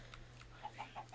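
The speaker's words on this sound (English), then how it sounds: "More chicken and sheep" Chickens cluck softly in Minecraft, giving a few short, faint clucks in quick succession against low background hum.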